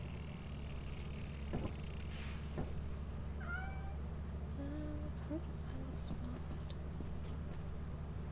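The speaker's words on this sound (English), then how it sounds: "Kitty cat." Cat meows heard inside the Lethal Company co-op game, several short rising calls scattered over a steady low hum, with a voice talking faintly in the background.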